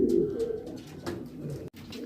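Soft, low coos of homing pigeons repeat in a steady murmur, close by, with a brief dropout near the end.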